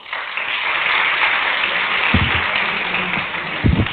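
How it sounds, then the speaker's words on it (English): Audience applause at a university declamation competition, a dense, loud, even wash of clapping from a hall crowd that holds steady throughout, with a few heavier thumps near the end. "A round of applause for Uzair, please."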